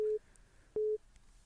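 Telephone line tone on a live radio call-in broadcast, two short steady beeps with a gap between them, fairly faint over a quiet line.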